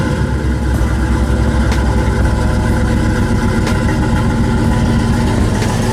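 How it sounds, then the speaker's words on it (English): A GM truck with a 5.3 V8 idles right after a cold start, a loud, steady low rumble with a continuous pulsing throb, close up and without talk; the engine had a P0300 misfire. "Let's get a cold start of the truck"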